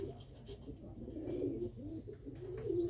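Pigeons from Bindar's loft coo softly and continuously, low throaty rolling calls near the microphone in a quiet loft, with a faint voice in the background.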